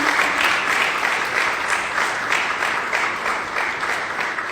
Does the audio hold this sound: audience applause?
yes